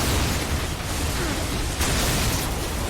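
Heavy, sustained bursts of gunfire and blasts in the Darksiders video game, a dense, loud barrage with a sharp crack partway through.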